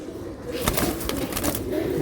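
A giribaz pigeon flapping and fluttering its wings while held in hand, a few quick close bursts of feather flutter.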